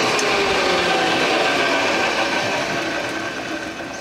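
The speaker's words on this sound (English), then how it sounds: "Got a wobbly pulley out there." A carpenter lathe's newly mounted drive system runs steadily with a wobbly pulley, giving a loud continuous mechanical whir that fades slightly toward the end.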